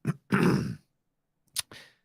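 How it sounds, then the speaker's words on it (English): Two bursts of coughing, a harsh throaty hack and then a short pair of coughs after a pause, sounding a little distant from the microphone. "That was my jazzy news intro bumper there, just me coughing off mic."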